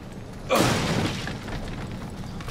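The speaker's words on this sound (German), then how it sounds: "Eine Granate." A grenade goes off in the video game Resident Evil 7, a single muffled boom that swells suddenly and then trails into a long, fading rumble of debris and low noise.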